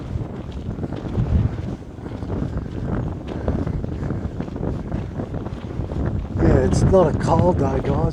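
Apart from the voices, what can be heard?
wind blowing by Port Phillip Bay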